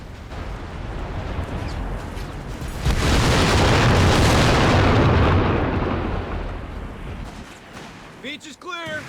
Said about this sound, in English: we're going to get a nice unexpected large explosion out of this